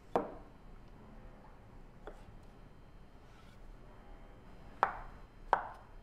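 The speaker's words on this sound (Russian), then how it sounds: "нарезать кубиками, никуда не торопимся." A knife chops avocado into cubes for a salad on a board, four sharp separate thuds spaced out over a quiet background.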